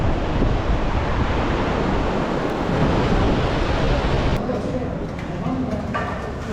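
A river at Manikaran rushes with a loud, constant roar of flowing water, steady and broadband, with faint higher clicks and shifts near the end.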